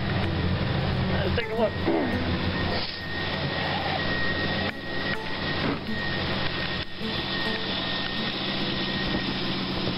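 A Jeep CJ7 with a 258 engine and Carter carburetor idles with a steady, rough rumble throughout, after a throttle repair, while a person speaks briefly over it.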